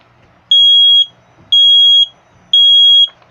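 An extra-loud smoke alarm under test blares three long, piercing electronic beeps of roughly half a second each, evenly spaced a second apart, close and harsh, with faint room noise between.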